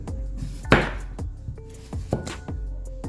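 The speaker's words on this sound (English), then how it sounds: "let's just get our cucumber cut up" A kitchen knife chops cucumber on a board, giving a string of sharp, close knocks at an uneven pace, with one heavier cut standing out among lighter taps.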